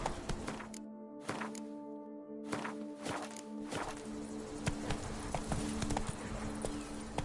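Roach, the horse in The Witcher 3: Wild Hunt's Blood and Wine expansion, runs with loud, close hoofbeats clip-clopping in a brisk, continuous rhythm over a low ambient drone.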